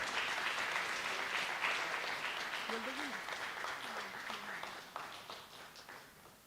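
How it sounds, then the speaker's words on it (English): A conference audience applauds an award presentation for poster winners, sustained steady clapping filling the room for several seconds, with a voice briefly audible over it partway through. "Audience, please welcome them with a big round of applause"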